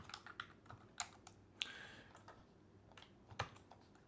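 Irregular light clicks of typing on a laptop's built-in keyboard, quiet and close, with scattered keystrokes and short pauses.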